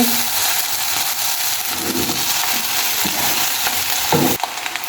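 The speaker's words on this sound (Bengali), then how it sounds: "এখন সবজির মধ্যে দিয়ে দেবো ভাতগুলো এবার সব কিছু ভাতের সাথে মিক্স করে নেব" Cooked rice being stirred into vegetables in a hot pan for chicken fried rice, with a constant loud sizzle and occasional scraping of the spoon against the pan.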